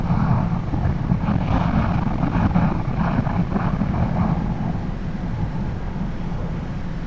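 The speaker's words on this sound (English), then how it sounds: "the camera is able to handle the wind noise" Heavy, steady wind roar buffeting a helmet or body camera on a naked motorcycle at speed, loud and continuous throughout with a low rumbling undertone and no speech.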